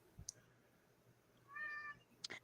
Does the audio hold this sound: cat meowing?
yes